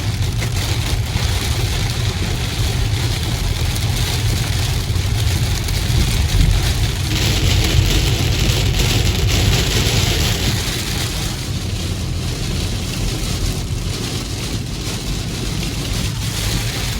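Heavy rain pelts a car driving on a state highway, a steady dense hiss of spray and drops over a constant road and engine rumble throughout.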